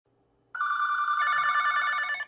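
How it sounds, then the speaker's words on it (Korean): Old-style telephone bell ringing in a police station, a single loud electronic trill that starts abruptly and rings steadily for about two seconds. "경찰서는 밀려드는 신고 전화로 정신이 없었어요."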